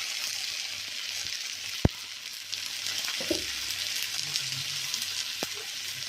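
Sliced onions fry in a pan for an egg masala, a soft steady sizzle close by with a couple of sharp clinks and a brief stir partway through, no talking.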